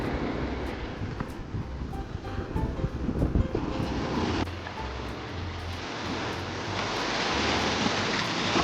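Surf and wind fill John Smith's Bay, a pink-sand beach in Bermuda, with a steady broad wash of waves and gusty rumbles buffeting the microphone throughout.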